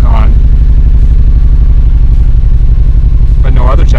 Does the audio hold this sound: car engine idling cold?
yes